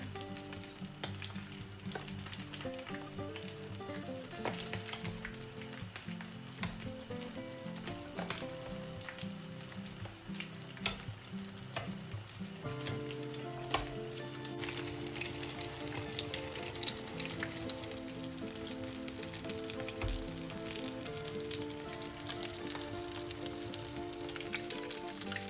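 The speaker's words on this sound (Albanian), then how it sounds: "do t'i skuqim me vaj e lule dielli në temperaturë mesatare." A continuous crackling hiss comes from vegetable spring rolls frying on both sides in a pan of sunflower oil at medium heat, with occasional pops, set against background music.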